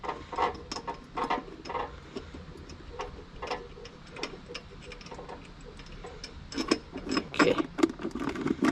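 A bolt on a Baja MB200 mini bike governor is unscrewed, giving a run of close, irregular metallic ticks and clicks with light scraping, growing busier toward the end.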